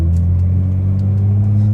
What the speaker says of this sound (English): the burble's like real on this car